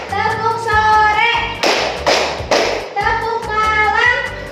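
A class of children claps hands in a call-and-response clapping game, with three dense bursts of clapping in the middle, broken up by a teacher's sung or chanted voice and a music backing track.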